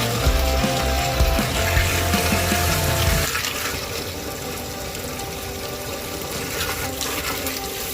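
Hot water runs from a tap onto kidney beans for washing, a steady gushing stream that changes tone partway through as the flow shifts, with no talking.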